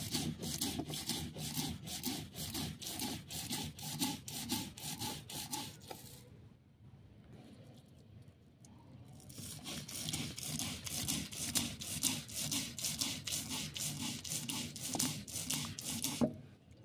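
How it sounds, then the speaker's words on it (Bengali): Poppy seeds are ground to a fine paste on a grinding stone with rhythmic back-and-forth rubbing strokes, close and steady, pausing briefly midway before resuming. "পোস্ত খুব ভালো করে বেটে নেব। অল্প লবণ দেব, মিহি করে সুন্দর করে বেটে নেব।"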